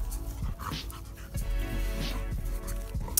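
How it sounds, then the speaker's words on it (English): A dog pants quickly and lets out soft whimpers while seeking attention, close by, in short breathy bursts with faint household noise. "So, my dog is just bugging Empress. She wants attention too"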